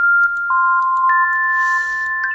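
A synthesizer plays sustained high-pitched bell-like tones, two clear pure notes ringing and overlapping with soft attacks, loud and steady without any voice.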